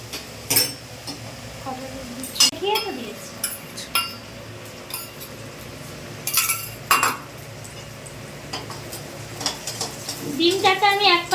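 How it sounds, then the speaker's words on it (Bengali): A spatula scrapes and stirs egg bhurji in a metal frying pan, making irregular clinks and rattles against the pan with short pauses between strokes. "ডিমটাকে আমি এক পাশে এরকম করে নেড়ে নেবো"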